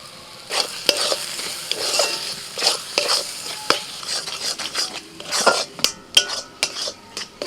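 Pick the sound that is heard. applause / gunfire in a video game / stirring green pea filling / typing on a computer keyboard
stirring green pea filling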